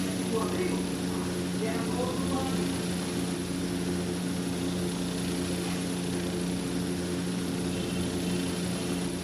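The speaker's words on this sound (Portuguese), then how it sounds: "Avião sem controle, sem destino, sem rumo." An airliner engine in the game Airline Commander drones steadily and continuously at constant loudness while someone talks over it in Portuguese.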